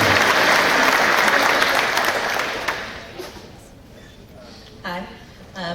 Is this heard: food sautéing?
no